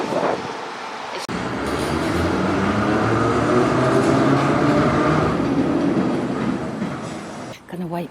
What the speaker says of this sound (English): Gonna wait for our tram to come in. Here it comes.